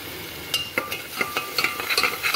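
Chili powder being stirred into onions, ginger and garlic frying in a pan, with repeated scraping strokes of the spoon over a steady low sizzle, close and fairly loud, no voices.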